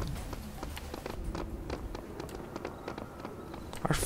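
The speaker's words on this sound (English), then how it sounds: "Our footsteps sound like shit." Quick, evenly spaced footsteps from Serious Sam 3 patter along as a player runs, a light tapping rhythm with scattered game sounds mixed in.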